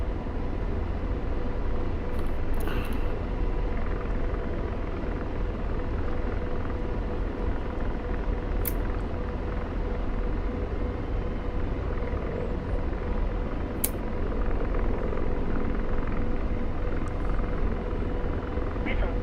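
Steady low rotor thump and engine drone of a helicopter in the flight simulator DCS World, running continuously at close range with a few faint clicks and a voice heard over it.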